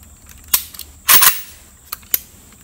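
A PSA AK-P pistol fires during magazine and muzzle device testing: four sharp shots spaced irregularly, one a quick double crack, each with a brief ringing tail against a quiet background.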